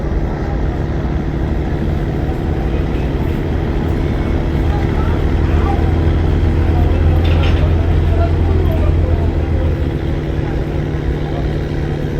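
A passenger launch leaving Barishal ghat for Dhaka runs at full speed in cyclone weather, its engine a loud, constant low drone with a steady hum and no pauses, as if recorded aboard or close by.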